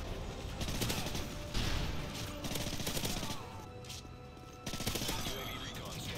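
Dense, rapid gunfire in a Call of Duty match, layers of automatic fire and sharp shots bursting continuously with brief lulls, fairly loud and close, with a voice speaking over it.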